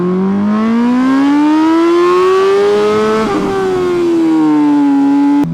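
An MV Agusta motorcycle exhaust revs up and back down in one long, loud, sustained rise and fall, its pitch climbing steadily, dipping briefly, then easing lower before cutting off abruptly.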